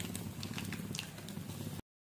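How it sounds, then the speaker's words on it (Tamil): Mustard seeds splutter in hot oil in a heated pan for a tamarind-free tempering, a faint, busy crackle of small pops over a low sizzle that cuts off abruptly. "எண்ணெய் சூடானதும் கடுகு போட்டுக்கலாம் தாளிக்கிறதுக்கு."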